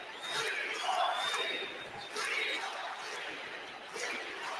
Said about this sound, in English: You can hear in the background here at U.S. Airways Center chants of "We Want Steve."